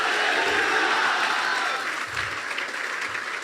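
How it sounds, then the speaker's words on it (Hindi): A church congregation at a Punjab worship service claps loudly together, a steady dense roar of applause that eases slightly toward the end, with no voices over it. "जोर से ताली बजाए ऐसे परमेश्वर के लिए"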